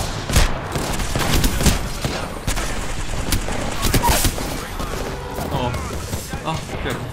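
Video game gunfire crackles in scattered shots and short bursts, with some heavier booms, close and fairly loud while someone talks over it.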